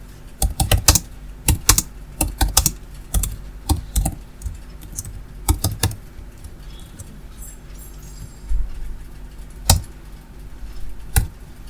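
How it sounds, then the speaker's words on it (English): Fingers tap on a computer keyboard in uneven bursts of clicks, close and crisp, then slow to a few scattered keystrokes after a pause. "I have things to type inside the square bracket here."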